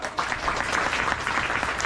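An audience at a religious community gathering breaks into brief, dense applause, many hands clapping together at a steady, fairly loud level.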